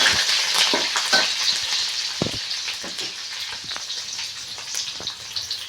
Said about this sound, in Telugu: వేగనిద్దాం ఒట్టి మిరపకాయలు ఇది ఒకసారి కలుపుకొని వేగనిద్దాం